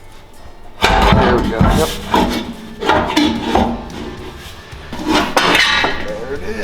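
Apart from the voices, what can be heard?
Honda Talon muffler being lifted and slid off bracket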